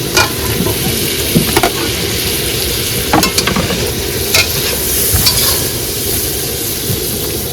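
Onions and potatoes frying in a pan with cumin, chilli, salt and turmeric give a loud, steady sizzle, broken by scraping stirs and occasional clinks of the spoon.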